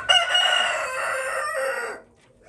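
A show rooster, an Araucana-keeper's prize cock, crows once loudly and close, a single drawn-out call lasting about two seconds before it fades into quiet.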